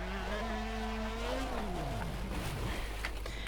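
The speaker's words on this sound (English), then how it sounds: "This is the wheel spin I was talking about." Simulated car in rFactor on the Nordschleife spinning its wheels, a loud engine whine sweeping up and down in pitch with tyre scrub, continuous and close with no talk.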